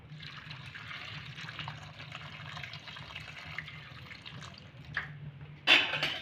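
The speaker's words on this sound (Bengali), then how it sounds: "এখানে আমি আমগুলো নরম করব বা সিদ্ধ করে নেব, তার জন্য এখানে আমি জল দেবো।" Water is poured into a pan of raw green mangoes as a faint, steady trickle that runs for several seconds and ends with a brief louder splash.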